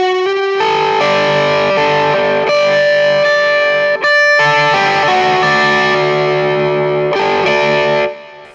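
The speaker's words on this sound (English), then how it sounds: "All right, now let's listen to the Vintage 30." Overdriven electric guitar through a Celestion Vintage 30 speaker in a guitar cab: loud, thick distorted chords and sustained notes ringing for about eight seconds before fading out, with no talking.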